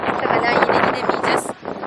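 Strong poyraz wind buffets a microphone on a coast near a wildfire, a continuous loud rushing roar with gusty surges and a brief lull, close and dominating.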